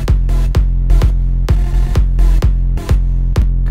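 An electronic dance drop with the lead synth removed: booming kicks pound out an even four-on-the-floor beat under a sustained bass and chord bed, loud and without vocals.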